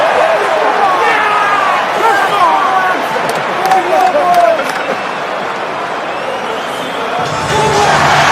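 Rugby stadium crowd at an England versus Japan international test match roaring after a try, a dense sustained cheer filling the whole clip with a commentator talking over it.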